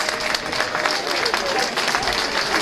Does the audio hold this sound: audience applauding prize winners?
yes